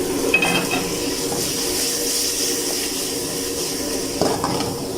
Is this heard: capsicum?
yes